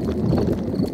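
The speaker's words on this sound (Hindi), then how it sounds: "ये डैडी के पेट की आवाज है।" Daddy Pig's cartoon stomach, in a Hindi-dubbed Peppa Pig episode, makes a low, continuous rumbling gurgle that lasts about a second at steady volume.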